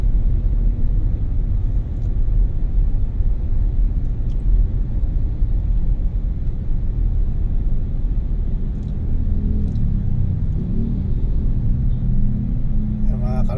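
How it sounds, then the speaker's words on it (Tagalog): Road traffic on a congested commute in Metro Manila produces a continuous low rumble of engines close by, steady throughout, with faint intermittent chirps and sounds near the end. "Grabe ang traffic dito mga ka-racer."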